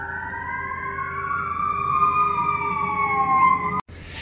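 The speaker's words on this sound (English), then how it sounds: "There's like four different sirens going on right now." Several emergency sirens wail outdoors at a distance, their overlapping tones rising and falling together in a steady, moderately loud wash, with one brief knock near the end.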